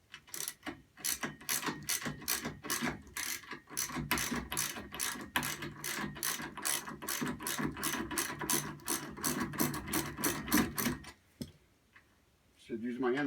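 A socket ratchet loosens screws on a Sole elliptical trainer, giving a long, rapid, evenly paced run of close, crisp clicks that stops abruptly, then a brief quiet gap and a short further burst.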